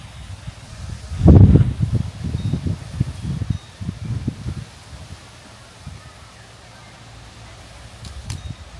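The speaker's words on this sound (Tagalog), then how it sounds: "Mahangin." Gusty wind rustles through leaves, swelling into a loud burst early on, then settling into a soft, steady rustle.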